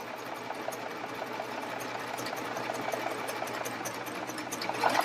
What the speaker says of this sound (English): I'm running the fabric right along the blade, cutting off maybe just a little bitty teeny bit of the edge.